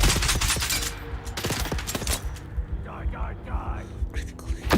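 An enemy fires guns at the player in Dune Awakening, loud bursts of rapid shots followed by scattered single cracks and in-game tones, while a person talks over the action.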